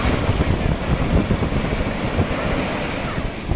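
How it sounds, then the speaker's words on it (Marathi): A big ocean wave crashing on Talashil beach: loud, close roaring surf with a continuous broadband rush and heavy wind buffeting the microphone, no clear pauses between swells. "हे बघा, हे मोठी एक लाट येते."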